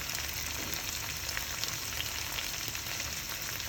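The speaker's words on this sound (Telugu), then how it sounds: "ఇప్పుడు రెండు కలిపి బాగా వేగుతున్నాయి కదండి" Chicken biryani ingredients fry steadily in a pan, a dense, continuous sizzle that holds evenly throughout with no voices.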